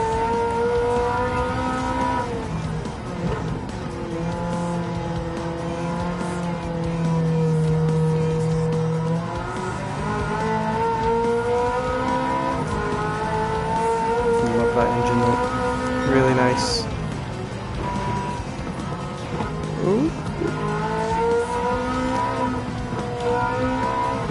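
Racing car engine from Gran Turismo 7 played on PSVR2 with a controller, a continuous loud engine drone that rises and falls through gear changes, with tire squeal in places during a fast lap.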